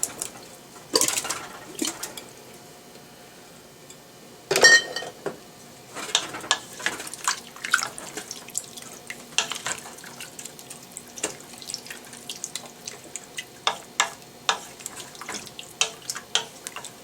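Vegetables rinsed under a kitchen tap, with quiet trickling water broken by a few louder splashes and a run of small clinks and drips, fairly close, no talk.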